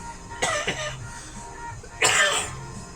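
Two rough coughs close to the microphone, the second harsher and longer, separated by a short pause.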